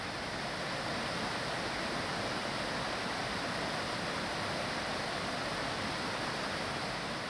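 A waterfall rushes over rocks in a steady, unbroken broadband roar that holds at an even level throughout.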